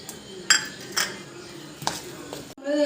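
Rice flour dough is mixed in a bowl, heard as a few scattered clinks and scrapes of a utensil against the dish, fairly close and light, with a muffled clatter near the end.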